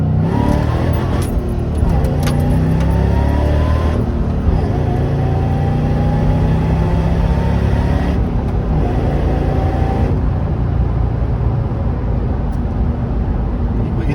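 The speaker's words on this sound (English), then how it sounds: "I'm in first gear. We'll do a first gear pull." A supercharged five-speed Ford Crown Victoria pulls hard in first gear, its engine note rising steadily as it revs, loud and close from inside the car, with a brief shift-like dip partway through.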